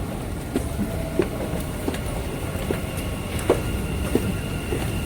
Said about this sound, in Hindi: सो ट्रेन आ चुकी है.